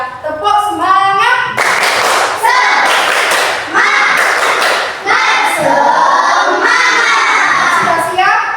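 Schoolchildren in a classroom perform a rhythmic clapping chant, loud claps and thumps in patterned bursts mixed with shouted, sung voices.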